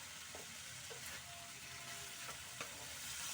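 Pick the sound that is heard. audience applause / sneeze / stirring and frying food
stirring and frying food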